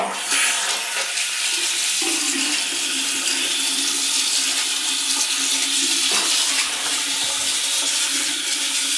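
Water from a faucet runs in a loud, steady rush throughout, with a brief shift in flow near the start and again about two-thirds through.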